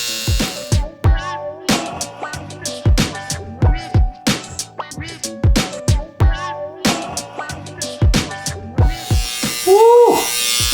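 Electric beard trimmer cutting a guideline along a beard, sharp buzzing bursts in short repeated strokes, close and loud, with brief pauses between passes.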